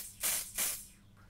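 Two quick bursts of makeup finishing spray hiss out close by, one right after the other, then fade into quiet.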